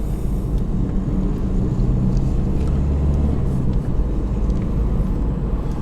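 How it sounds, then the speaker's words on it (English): Car interior on a narrow, winding rural road, with a steady, loud low engine and tyre rumble throughout, continuous and close, taking bends without any talking. "I'm trying to keep the car balanced as I go round these bends."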